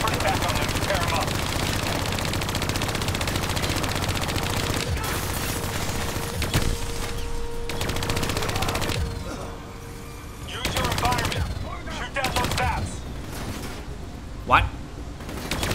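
Rapid bursts of automatic gunfire and scattered shots from a Call of Duty: Black Ops III match against turrets and enemies, continuous and loud with sharp cracks near the end, while a player talks briefly over it.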